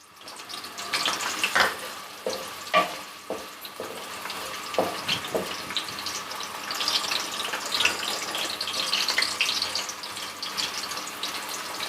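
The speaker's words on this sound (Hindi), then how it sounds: "उसको मैंने रफ कटिंग में काट लिया और उसको डालते हैं ऑयल में।" Small roughly cut onion frying in a modest amount of oil for moong dal, a steady crackling sizzle with a few sharp splashes early on, close and moderately loud, no talking.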